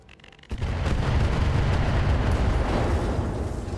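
Weapon fire and an explosion hitting a mech in the RogueTech video game, a sudden heavy boom that swells into a sustained loud rumbling roar after a brief quiet start.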